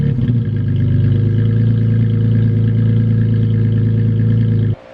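A Toyota Tacoma pickup fitted with an aftermarket MBRP exhaust idles close by, a loud, deep, steady rumble that cuts off abruptly near the end.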